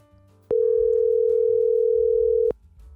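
A steady telephone dial tone hums loudly for about two seconds, then cuts off abruptly.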